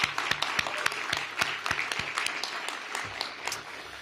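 Audience applause at a museum groundbreaking ceremony, a moderate round of clapping from a crowd with distinct individual claps, steady and fairly close, fading slightly toward the end.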